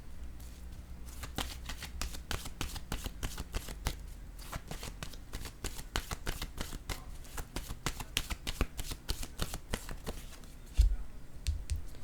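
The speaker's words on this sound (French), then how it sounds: "Je vais déposer une autre carte." Tarot-style cards are shuffled and handled in rapid, dense flicking riffles close to the microphone, followed near the end by a soft thud as one card is set down.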